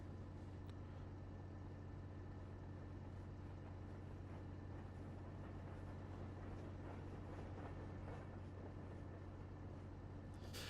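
A train rolling past a truck stop in American Truck Simulator, a low steady rumble with faint rattling over a constant engine drone, at a distance and quiet throughout.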